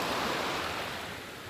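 Sea waves wash onto a beach near Rome in a steady broadband roar, with no talking.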